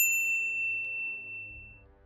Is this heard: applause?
no